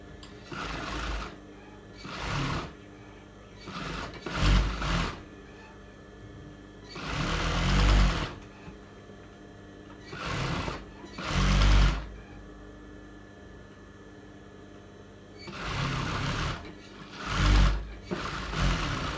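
A sewing machine runs stitches along shorts (a chaddi) in repeated short bursts, loud whirring runs separated by quiet pauses of fabric handling, close and with no talk.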